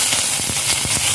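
Ginger paste hitting hot oil with whole cumin, bay leaf and dried red chilli, a steady close hiss of frying with a few brief sputtering bursts, no talk.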